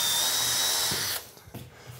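A power drill bores holes with a pilot bit and countersink into wood panels for an aquarium cabinet, whirring steadily for about a second before cutting off, followed by a couple of faint knocks.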